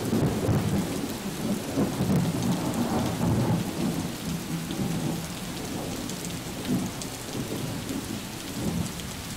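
Heavy monsoon rain pours steadily onto surfaces during a storm in Himachal Pradesh, with low thunder rumbling through it. The sound is dense, continuous and fairly loud, and no voices are heard.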